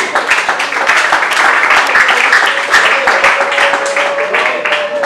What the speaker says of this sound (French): Nous acclamons pour lui.